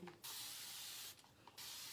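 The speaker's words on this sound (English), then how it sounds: "So I'm dampening my hair again with the spray bottle" A misting spray bottle sprays water onto hair in two long hissing bursts with a short pause between, close and steady, with no talking.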